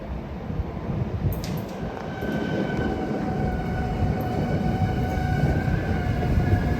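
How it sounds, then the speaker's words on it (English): A train pulling into Conwy railway station in Wales, a steady broadband rumble of wheels and engine with faint high whine, continuous and fairly loud throughout with no talking. "as my train arrives"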